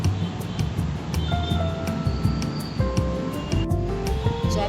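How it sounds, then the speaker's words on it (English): Sweet potatoes are washed in water, with steady sloshing and splashing, close and fairly loud, broken by irregular knocks and rubbing sounds. "we need to thoroughly wash this with water"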